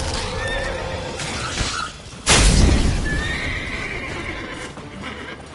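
Geralt's horse Roach in The Witcher 3 gives a loud, drawn-out neigh and whinny up close, with hoof clip-clops and game ambience around it.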